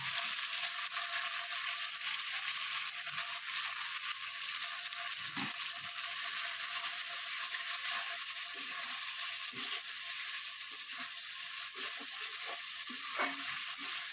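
Tangra fish frying in a spiced masala, a continuous bright sizzle with scattered clicks and scrapes as the pan is stirred, steady and close throughout, with no voice.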